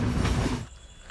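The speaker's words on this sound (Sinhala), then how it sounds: "ආතල්ම වාහන තමයි මේ කෝච්චිය කියන්නේ" A train rumbles along the line near Kanniya, loud and steady at first, then cuts off sharply to quiet with only faint background left.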